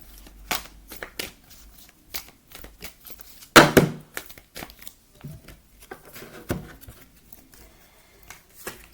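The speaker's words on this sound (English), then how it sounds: "Let's pull a unicorn card." Oracle cards being shuffled and drawn by hand, a series of soft papery riffles and flicks with one louder burst midway, close and quiet, with no talking.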